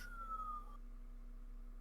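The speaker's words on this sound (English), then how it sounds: "sirens in the background" A distant siren wails faintly in the background with a slowly falling tone for under a second, then fades behind a steady low hum.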